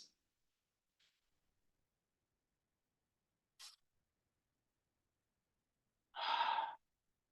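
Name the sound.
deep breathing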